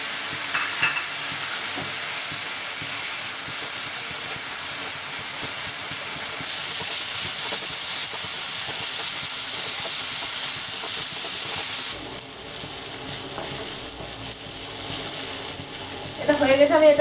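Cashews and raisins fry in a hot pan, a steady dense sizzle and hiss that runs continuously and close, dipping slightly partway through and swelling louder at the end.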